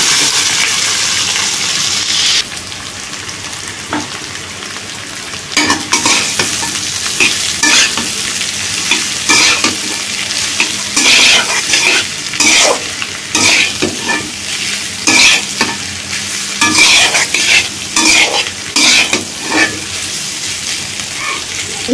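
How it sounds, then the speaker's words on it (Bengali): Potatoes tossed with fried soybean chunks sizzle steadily in a pan during simple village cooking, with repeated rhythmic scraping stir strokes cutting through the frying hiss. "তো আলুটা দিয়ে দিই।"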